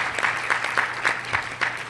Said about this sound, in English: big round of applause as well